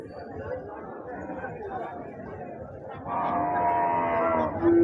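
Cattle and calves low and moo at the Husnabad weekly market amid a busy crowd, with a long, loud moo rising near the end over the chatter.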